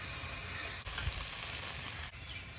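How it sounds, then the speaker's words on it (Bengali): Okra sizzles steadily in a hot pan with salt, turmeric and chopped garlic, a dense continuous frying hiss with a couple of brief stirring scrapes, close and alone with no talking. "ভেন্ডিটা ভালো করে ভেজে নেবো"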